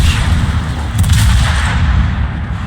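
203mm naval guns firing in a warship video game make a loud, continuous rumbling boom with a heavy low-end roar and a brief crackling burst partway through, with no talk.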